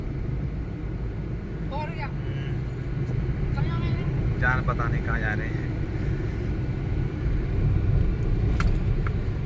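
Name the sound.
car approaching on a service road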